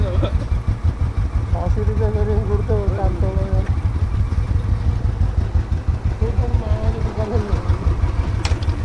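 A motorcycle engine runs close by with a steady rapid low throb that stays loud throughout, while a voice talks over it.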